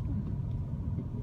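A car drives along a snowy road on a long detour through Austria, giving a steady, close, low engine and tyre rumble that runs evenly throughout, with no voices.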